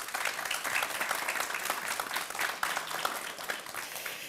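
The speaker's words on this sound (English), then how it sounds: "a warm applause, Mickey Huibregtsen." An audience at an alumni talk welcomes a speaker with warm applause, steady moderately faint clapping from a crowd, continuous for several seconds.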